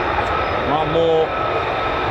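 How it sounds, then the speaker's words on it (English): F-35 fighter jets taxiing at RAF Lakenheath, a loud steady engine roar and whine holding throughout at close range, with no break or pause. "F-35s taxiing now as well"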